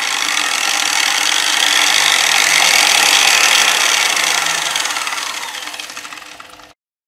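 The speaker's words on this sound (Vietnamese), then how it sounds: "khi nó tốc độ nó nhỏ, cái điện áp nó còn có 40-45V thì cái máy của chúng ta nó quay rất là chậm" An angle grinder on a 220V speed controller spins slowly, producing a steady broadband whirring rush that holds loud for several seconds, then fades as it winds down before stopping abruptly.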